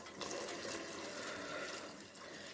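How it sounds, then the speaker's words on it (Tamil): Hot water is poured into a cooking pot while making Chettinad rice and lentil dish, giving a steady, close, rushing splash that runs continuously without a break. "இப்போ அந்த தண்ணியை நம்ம ஊற்றிக்கலாம்"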